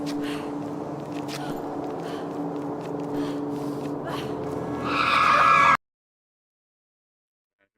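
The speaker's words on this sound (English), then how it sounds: "You got hit by a car non-fatally." Tyres skid and squeal loudly in a video game as a car slides into a player character, a sustained screech building over road noise before cutting off abruptly into silence.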